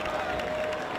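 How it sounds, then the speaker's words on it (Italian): A crowd lining the street at the Corpus Domini procession applauds in a dense wash of clapping and crowd noise, brief and fairly distant, with voices mixed in. "Gli applausi che sono importanti"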